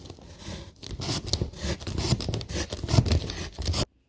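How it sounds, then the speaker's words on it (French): A utility knife with its blade extended saws through board to cut out an arch, a close, continuous rasping scrape in repeated strokes that stops abruptly near the end. "on n'a plus qu'à découper avec un cutter"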